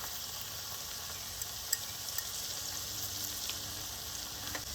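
Curry powder and thyme hit hot fat in a pan for a vegetable curry, producing a quiet, even sizzle with a few small pops and light stirring clicks, with no talk over it.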